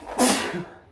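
A single sharp sneeze bursts out close and loud, then fades into a brief breathy tail.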